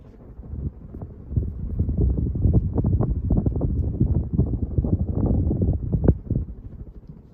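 A mid-1990s North Coast Antigua ceiling fan runs on its high setting, heard close up as a steady rushing of moving air with soft rhythmic buffeting from the blades.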